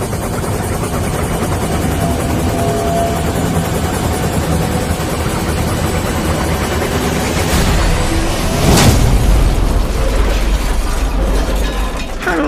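Helicopter rotor blades spin up amid a loud mechanical whir with ratcheting, grinding machinery, building steadily with a sharp crash-like burst midway.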